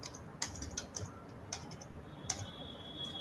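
A computer keyboard is typed on at a desk while data is entered into qualitative coding software, giving sparse, quiet individual key clicks spaced irregularly over low background hiss.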